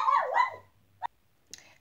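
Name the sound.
dogs barking at someone at the door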